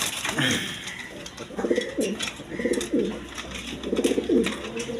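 Several soft, low pigeon coos repeat in a steady rhythm, with faint chirps and light background noise around them, among pigeons kept for sale.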